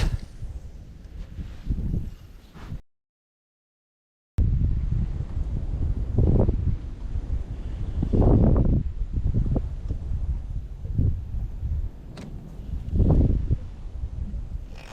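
Strong wind buffets the microphone while fishing for bass from a boat, a loud, low, rumbling gust that rises and falls over several seconds, with a brief dropout partway through.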